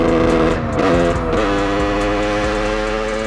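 A factory-derestricted 50cc supermoto motorcycle with its original chrome stock exhaust revs up close and loud. Its buzzing, raspy engine note climbs and dips through quick throttle blips.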